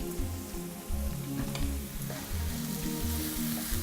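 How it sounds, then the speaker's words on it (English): Garlic and ginger hit a hot pan and crackle with a dense, steady sizzle. A low, tonal rumble runs beneath the frying throughout. "I'm now going to add my garlic and ginger"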